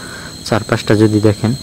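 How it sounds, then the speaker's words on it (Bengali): Crickets chirp at midnight around an apartment, a thin steady high trill running faintly beneath someone speaking close by. "চারপাশে শুধু ঝিঝি পোকার ডাক ছাড়া আর কিছু নেই"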